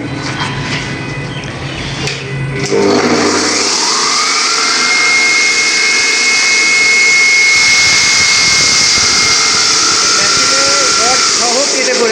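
A digital cutting machine slices through excess roof concrete casting with steel rebar. It starts with a rising whine, then becomes a loud, steady, harsh roar close by, with voices faintly underneath.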